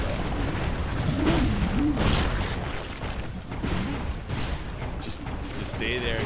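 Rapid gunfire and repeated explosive booms from the side-scrolling game Broforce fill the mix in dense, overlapping bursts, with a player talking over the action.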